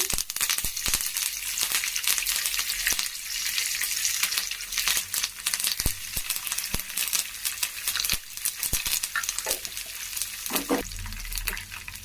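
Curry leaves dropped into hot oil for lemon pickle crackle and sizzle loudly and continuously up close, with sharp popping bursts scattered through the steady frying hiss.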